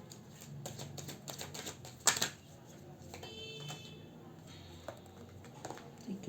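A single card drawn from a deck during a card reading: one brief, crisp papery snap with a few soft rustles in an otherwise quiet room.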